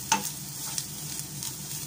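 Kashmiri chili powder and green chilies are stirred in a hot pan, making a gentle, steady sizzle broken by a few scraping stirs of the spoon, close and quiet, with no voices.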